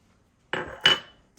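Sesame seeds and salt are stirred in a bowl for Fiji-style lakri mithai, giving two close, short scraping, rattling strokes followed by the start of a third.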